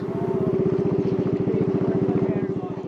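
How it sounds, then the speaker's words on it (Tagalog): A boat motor on the Liguasan Marsh in Maguindanao del Sur chugs loudly in rapid, evenly pulsing beats, close and continuous throughout. "sobrang lakas din ng tunog ng motor ng bangka namin na nagtataboy sa kanila"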